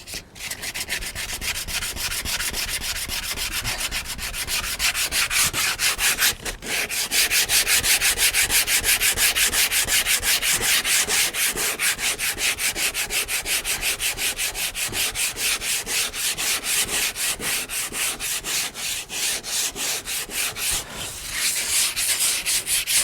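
Sandpaper scrubbed by hand across the roof of a Chevy Express van, a loud, steady, close-up rasping of rapid back-and-forth strokes that runs almost without pause, with one brief break near the start.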